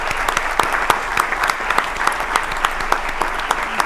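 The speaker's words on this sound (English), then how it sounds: "Please join me in giving these folks a great hand of applause." A crowd claps steadily at a city council meeting in Orlando, a dense wash of applause at even volume with no voices standing out.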